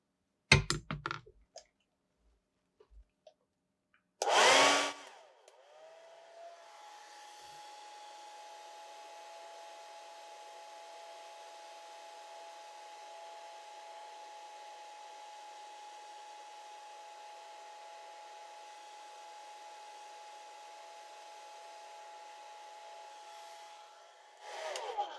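Hair dryer blowing on a wet watercolor painting of a koala, starting with a loud click and then running as a steady, even whir for about twenty seconds before switching off.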